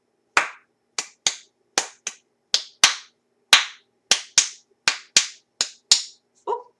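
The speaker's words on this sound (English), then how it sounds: "Practice it, clap it, think the question, think the answer, and then until you can clap it out without saying any of the words." Hand claps beating out a rhythm in a quiet room, about a dozen sharp, close single claps in an uneven pattern, alone with no talk over them.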